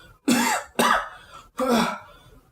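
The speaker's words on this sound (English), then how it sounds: "you can hear some more coughing from like outside of the room." Three harsh coughs in a row, each a loud rough burst with short pauses between, slightly distant and muffled.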